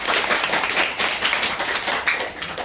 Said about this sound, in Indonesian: Tepuk tangan dong guys.